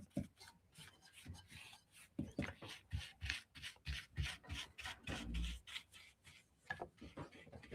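Dry-brushed paint being rubbed back by hand on thrifted home decor, a steady series of raspy, scratchy strokes in an uneven rhythm, close and fairly quiet.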